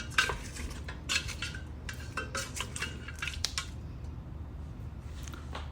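Ingredients for a Telangana-style Thalapakatti mutton biryani, salted and spiced, are stirred in a pot with a metal spoon, giving repeated scraping clinks and wet squelches against a steady low background hum, with no talking.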